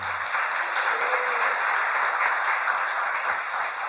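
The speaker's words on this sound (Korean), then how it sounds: "저분에게 박수 한번 쳐줬으면 좋겠어" Studio audience applause at a Korean political talk show, a steady dense wash of clapping filling the whole stretch at even loudness, with no voices over it.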